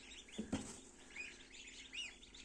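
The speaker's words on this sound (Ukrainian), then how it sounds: "Наш гусік." Newly hatched gosling in an incubator among ducklings, giving faint, high rising peeps in short clusters, with a couple of soft knocks or handling bumps near the start.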